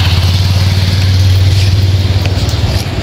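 Motorcycles on a road after rain drone loudly and close in a steady, low engine hum with a slight rattle that holds for a few seconds before easing off at the end.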